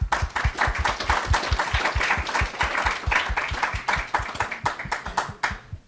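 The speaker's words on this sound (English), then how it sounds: "Another round of applause for all of you" Conference attendees give the judges of a case competition a round of applause, clapping in a fairly rhythmic, sharp pattern from a modest crowd, with individual claps clearly audible and no talking.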